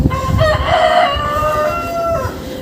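A young Cochin rooster lets out a single loud, drawn-out crow lasting about two seconds, close by, with soft background clucking and farmyard rustle from chickens.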